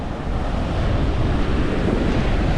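Ocean surf pounds a beach in Oman, a steady loud wash of breaking waves with heavy wind rumble on the microphone throughout, no voices.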